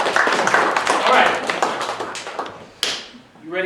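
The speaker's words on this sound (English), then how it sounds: "Give him a round of applause." Applause breaks out in a church gathering, a dense patter of hand claps from a group of people that swells and then thins out toward the end, with a sharp tap near the close.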